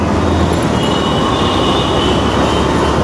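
A metro train passes close by near Farmgate metro station in Dhaka, giving a loud, steady rumble with a faint high wheel squeal that lasts throughout.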